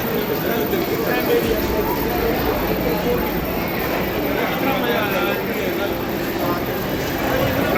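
The Amritsar Shatabdi Express rumbles and clatters steadily nearby as it arrives at a station, with people talking over the continuous noise.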